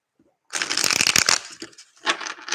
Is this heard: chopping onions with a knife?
no